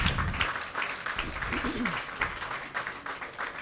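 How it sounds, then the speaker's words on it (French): Business-event audience in Burkina Faso applauding on cue for several seconds, a dense steady wash of clapping with low rumble and faint background voices. "les pépites vont pour cela applaudir pendant 5 secondes"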